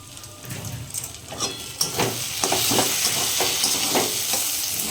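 Banana flower (mocha) curry stir-fried in a pan with homemade garam masala gives a steady close sizzle, with repeated scraping strokes of the spatula through the spiced mixture over about five seconds.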